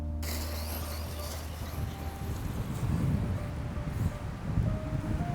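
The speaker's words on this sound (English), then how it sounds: "Boy, it is super windy today." Gusty wind on a warm spring day roars and buffets the microphone steadily, rising in bursts, with a faint mechanical hum underneath from a ZD Racing MT09 1/9 scale RC truck.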